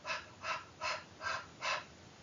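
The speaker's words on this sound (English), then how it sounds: "I want everybody to kind of hyperventilate with me" Heavy deliberate breathing in a classroom-style demonstration of hyperventilation, five loud breathy exhalations in a steady rhythm about every 0.4 seconds, close and alone with no talk.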